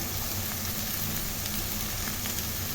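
Beans, carrot and cabbage are sautéed in hot oil, producing a dense, steady sizzle that stays loud and close throughout with no pauses.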